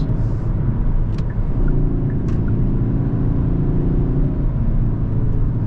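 A 2025 Kia K5 GT Line on the move makes a steady, loud blend of engine hum and road rumble throughout, with faint brief ticks above it.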